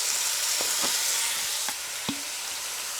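Brisket sizzles steadily in a hot pan while soy sauce is poured in, a constant close frying hiss broken by a few soft clinks of a utensil against the pan.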